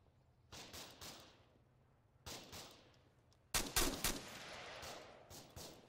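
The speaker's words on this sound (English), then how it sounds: "But now I hear the AK fire." Bursts of AK rifle fire in the Arma 3 combat game: three loud volleys of rapid shots at roughly one, two and four seconds, the last closest and heaviest, with a faint low hum between them.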